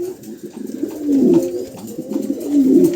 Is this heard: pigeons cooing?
yes